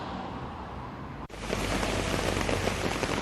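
Heavy rain pours steadily across Delhi-NCR streets, a dense, continuous hiss that grows louder after a brief dip and then stays even, with no voices.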